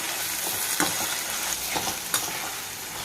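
Tomatoes fry in a pan for a broad beans curry, giving a dense, steady sizzle close by, with a few soft stirring scrapes breaking through; no voices.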